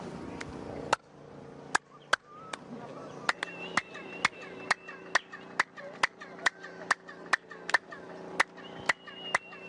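A long series of sharp, evenly spaced handclaps, each followed by a ringing, springy echo that bounces back, with faint voices in the background.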